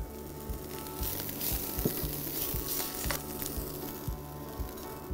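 Roughly chopped ginger and coriander roots sweat in a hot pan with a constant, close sizzle and a few light stirring clinks, with no talk.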